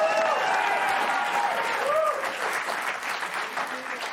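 Studio audience applause, a dense wash of clapping and cheering that stays loud and steady throughout, easing slightly in the second half.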